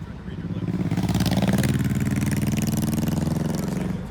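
Motorcycle engine idling and revving nearby, a loud steady throbbing rumble with a rhythmic pulse that swells slightly midway and holds to the end.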